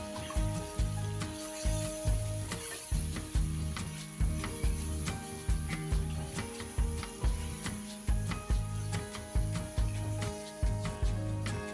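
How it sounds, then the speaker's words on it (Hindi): Chicken with masala frying in a pan, a sizzle broken by regular scraping and stirring strokes about once a second, close and fairly loud with no talking. "इसमें हम सबसे पहले डालेंगे अपना मसाला और इसको 1 से 2 मिनट के लिए फ्राई करेंगे"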